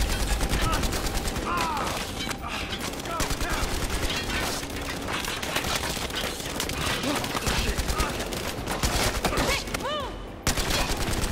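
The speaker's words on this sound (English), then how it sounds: "I'm gonna shoot through it" Sustained automatic gunfire in Battlefield Hardline as a player shoots through a wall, loud continuous bursts filling the whole stretch with a few brief gaps, layered over game sounds.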